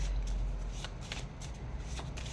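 Oracle cards are shuffled and pulled by hand in close, quiet riffles and soft slaps repeating through the clip, with faint low room hum beneath.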